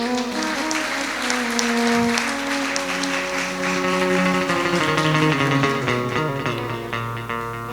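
An audience at a Shrimad Bhagvat Katha gathering in Leicester claps steadily to welcome guests. The sustained, even applause runs for several seconds beneath droning, tonal devotional music.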